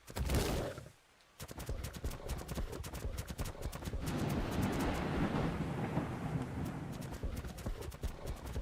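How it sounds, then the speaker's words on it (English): Rumbling thunder and crackling lightning rolling across a video game map, loud and sustained for several seconds after a brief sharp burst and a short lull. "The hills are alive with the sound of lightning."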